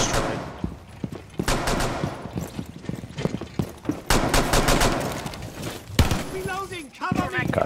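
Gunfire in Rainbow Six Siege on the Coastline map, rapid automatic bursts and scattered shots with a voice talking over the shooting and a short sound effect near the end.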